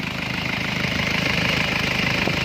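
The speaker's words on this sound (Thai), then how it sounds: "ฟังเสียงเครื่องพี่น้อง" A car's engine idling steadily up close, a loud continuous hum with a fast, even mechanical pulse and a slight rough knock, no voices over it.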